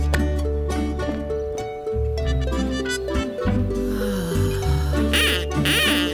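Cartoon ducks quack in a Postman Pat animated episode, heard over steady background music with no talking.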